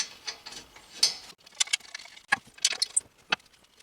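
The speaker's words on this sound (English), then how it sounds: "now the caliper bracket can be put back in place and the two bolts put back in that" A ratchet clicks in short bursts while the front brake caliper bracket bolts on a 2018 Honda Accord are tightened, crisp close metallic ratcheting with brief pauses between strokes.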